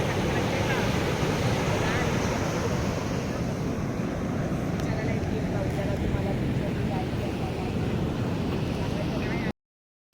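Sea surf at Tarkarli beach in Malvan, a broad continuous roar of waves with wind rumbling on the microphone, steady and loud throughout before cutting off abruptly near the end.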